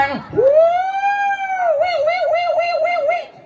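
A human voice imitates an ambulance siren, holding a long tone that rises, then settles into a quick wavering wail, loud and close.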